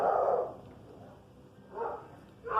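A few barks from a dog nearby, with a burst at the start and two more after a quiet gap.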